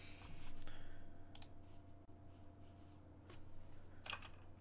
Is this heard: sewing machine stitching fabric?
no